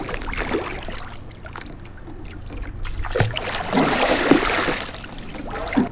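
A sea kayak paddle sweeps out across the surface in a sculling brace, giving soft swishing and trickling water through a continuous wash, with a fuller splash near the end.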